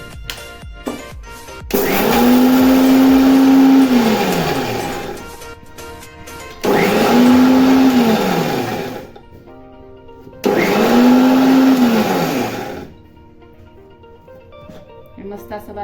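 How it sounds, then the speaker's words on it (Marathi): A kitchen mixer grinds sesame seeds, garlic and cumin in three loud whirring bursts of about three seconds each. Each burst winds up and down, with short quiet pauses in between. "प्रथम आपण बारीक करणार आहोत मिक्सरमध्ये."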